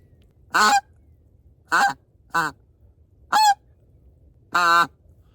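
A handheld goose call imitates geese honking in five loud, nasal honks spaced irregularly, each a short, close, reedy blast with a falling tail, alone in otherwise quiet outdoor surroundings.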